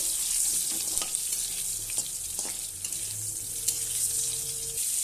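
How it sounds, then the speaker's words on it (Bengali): Pointed gourd (potol) frying in hot oil for a chana potol dish, a steady soft sizzle with light stirring scrapes running throughout, close and moderately quiet, with no voices. "তো এবার আমি পটলগুলো ভালোভাবে ভেজে নেব।"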